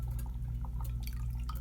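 Liquid drips off a pine cone just dipped into a mixture, a series of small, soft drops over a constant low hum.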